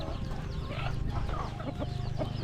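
Chickens cluck and chatter close by on a hillside farm in northern Laos, overlapping calls in a busy flock under a low, steady rumble.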